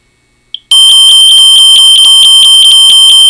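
Homemade portable personal alarm set off by removing a magnet: after a short chirp, a piercing, very loud continuous electronic siren tone starts abruptly and holds steady, close up, with no talking.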